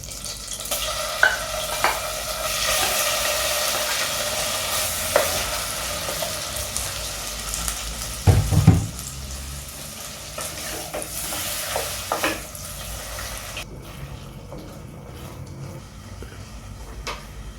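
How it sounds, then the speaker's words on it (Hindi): Chicken pieces frying in a pan for butter chicken, a steady sizzle with occasional stirring scrapes and a louder clatter near the middle, before the sizzle quiets down. "अब हम इसमें चिकन डाल देंगे।"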